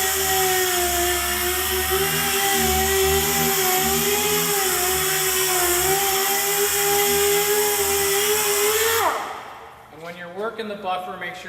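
A polishing buffer works wax into vehicle paint, a loud steady high-pitched whine with a low drone running continuously up close, then it cuts off abruptly near the end, leaving clattering handling noise.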